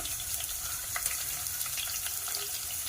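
Green chillies crackle in a hot pan for pepper chicken, giving a soft, continuous sizzle with scattered faint pops and no voices.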